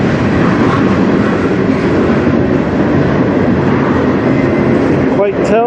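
A CN freight train led by four locomotives rolls past on the Strathroy Subdivision near Sarnia, Ontario, a loud, close, continuous rumble of wheels and cars with rhythmic clatter throughout.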